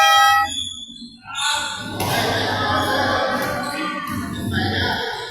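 A long electronic buzzer blares at the end of a community league basketball game in Binangonan, Rizal, loud and sustained over crowd noise for several seconds.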